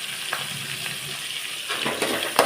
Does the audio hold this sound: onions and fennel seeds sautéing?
yes